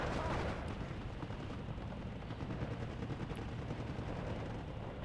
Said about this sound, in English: Artillery is going for the counter battery, but not really hitting the Nebelwerfer.